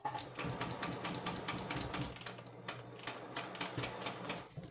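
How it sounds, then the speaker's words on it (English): A sewing machine stitches along the fabric edge of a zipper pouch made from upcycled food wrappers, giving a steady, rapid run of mechanical clicks at close range with no talking. "Right, and just sew off the edge."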